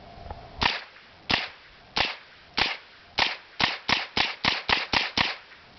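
Suppressed 9mm AR-style rifle firing about a dozen rounds, sharp muffled reports at first spaced roughly a second apart, then quickening into a steady rapid rhythm until the magazine runs empty, close and loud.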